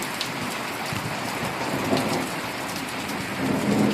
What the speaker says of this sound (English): To give you an idea how much rain we're getting here.